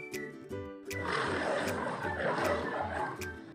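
A lion lets out a long, rough, rumbling roar that swells and holds steady, preceded by a brief throaty tonal growl, loud and close.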